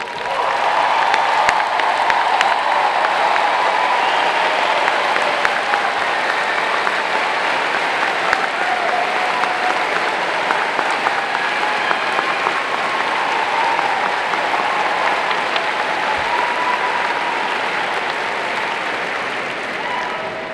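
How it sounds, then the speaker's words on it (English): Sustained applause at a 2024 Florida State University spring commencement as honors graduates stand, a large indoor crowd clapping in a dense, even wash that carries on steadily and eases slightly toward the end. "would you please stand so that we can applaud your accomplishment?"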